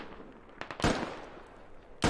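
Gunfire in the military video game Squad, with a few rapid distant shots followed by a louder burst and another sharp crack at the end over steady background ambience, and no talking.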